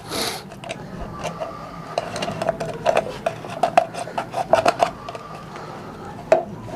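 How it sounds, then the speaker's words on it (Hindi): Paper is cut by hand for a classroom place-value lesson, giving a run of small snips and rustles that cluster irregularly, close and fairly quiet, against a faint room background. "यहाँ से हम ये काट देंगे"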